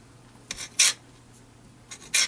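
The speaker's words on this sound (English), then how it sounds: "Now you're going to slice your pound of sausage, or mixture of sausages as you choose, into 1/4-inch slices." A knife cuts through a pound of sausage into quarter-inch slices, giving short, close raspy strokes, with two louder cuts standing out against a quiet kitchen background.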